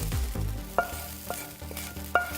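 Cooked hamburger is stirred into a pot of beans: a wet, thick squelch and scrape with several sharp knocks of the spoon against the pot, close and without talk.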